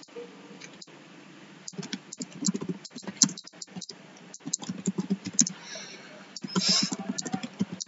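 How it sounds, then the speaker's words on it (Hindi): A computer keyboard clatters as a medical physics journal search is typed, with quick irregular keystrokes and brief pauses, close and fairly clear. "मैं इसके जर्नल्स को फाइंड कर रही हूँ"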